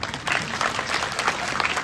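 An audience at a church program in Alipurduar, West Bengal, claps together in a brief, moderately loud burst of dense, steady applause.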